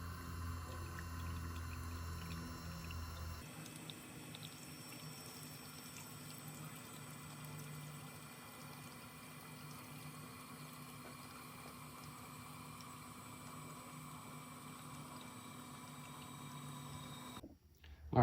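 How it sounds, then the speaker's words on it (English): An electric fuel pump drawing water out of a bin, a steady mechanical whir with a liquid gurgle, starting abruptly and running continuously before cutting off at the end. "I'm going to turn this pump on."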